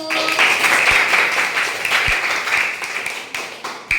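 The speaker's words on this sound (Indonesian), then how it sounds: "Tepuk tangan untuk kelompok 1." A classroom group claps together for one student team, a dense, steady burst of many hands lasting a few seconds before it thins out, with a few stray claps at the end.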